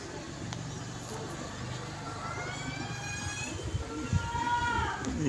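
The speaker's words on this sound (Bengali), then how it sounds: "পায়রাগুলো চলছে, ছটা অনেকটা হাইট নিয়ে উঠছে পায়রাগুলো।" Pigeons coo softly at a distance over a steady outdoor background, with faint traffic rumble and a brief louder knock near the end; a voice may murmur faintly.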